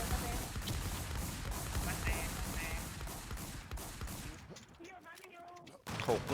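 Rapid gunfire crackles in a crowded video game firefight, dense bursts of shots layered over a busy, loud mix before thinning out near the end.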